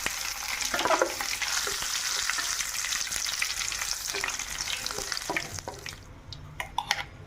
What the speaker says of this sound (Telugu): తాలింపు అయితే వేగిందండి.